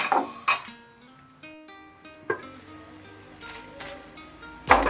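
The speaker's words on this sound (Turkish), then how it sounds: "Suyunu salıp çekinceye kadar kavuracağım" Diced beef cubes frying in oil in a pan for a stew, a steady sizzle with clanking stirs and pan knocks at intervals, close and moderately loud, no talking.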